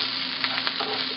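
Curry leaves and cut green chilies frying in a pan of hot oil: a steady close sizzle with a few light stirring scrapes.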